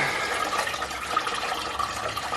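Coolant pours steadily from a disconnected water pump hose on a VW engine into a catch container, a continuous close splashing gush with no pauses and nobody speaking.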